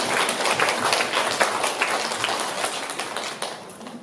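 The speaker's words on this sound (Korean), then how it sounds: "우리 큰 감사의 박수를 올려주시기 바랍니다" A church congregation applauds, a dense wash of many hands clapping at once that stays steady for several seconds and then thins slightly toward the end.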